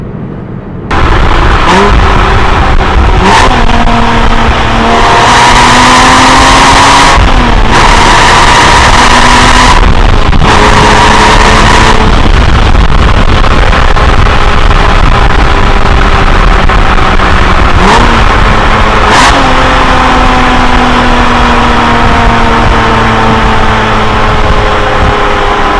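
Porsche Cayman R engine revving in fifth gear while driving, a loud steady drone whose pitch climbs and dips through repeated throttle swells and lifts across the clip.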